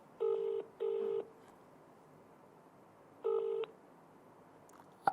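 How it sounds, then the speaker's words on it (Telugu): An outgoing phone call rings back with two quick tone bursts, a pause, then another burst, steady and moderately loud over a quiet line hiss. "రింగ్ అవుతుంది."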